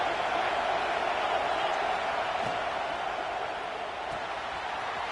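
Stadium crowd at an Auburn college football game during a third down, a dense, steady roar of cheering and noise that holds throughout, with a commentator's voice faint within it.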